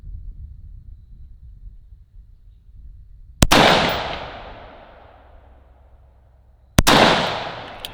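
Two loud, sharp rifle shots at an outdoor target range, fired a few seconds apart, each followed by a long decaying echo.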